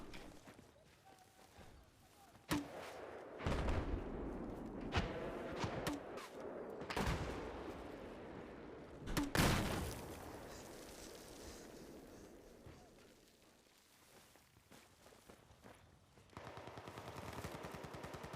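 Rapid gunfire in the Battlefield 4 video game, bursts of automatic shots and sharp single cracks scattered across the clip, some near and loud, others more distant, with faint voices underneath.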